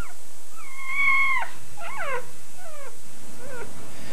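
Several high, whiny yelps from young puppies, rising and falling in short bursts with brief pauses between, fairly clear and close.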